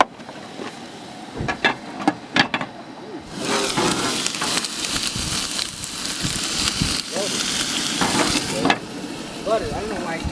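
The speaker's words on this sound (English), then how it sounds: "Simmering the rice. Getting the steak going." Steak and rice frying and simmering in a pan at an overlanding camp on Poughkeepsie Gulch, a steady close sizzle after a few knocks and clatters, with a voice heard over it now and then.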